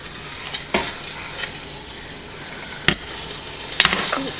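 A pressure canner lid is opened during home canning of squash, giving a few sharp metallic clinks and clanks spaced over several seconds above a soft background hiss.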